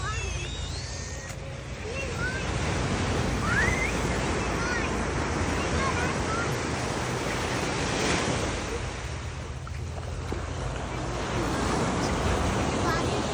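Surf on a Florida beach rolls in as a steady broadband wash with gusts of wind noise buffeting the microphone, loud and continuous throughout, with faint voices nearby.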